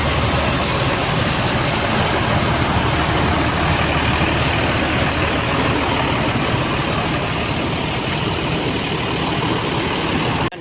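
Intercity buses, including ANS coaches arriving from Jakarta, rumble at Solo's Tirtonadi bus terminal in the early afternoon, a steady loud engine drone and idling throughout with broadband traffic noise and no talk.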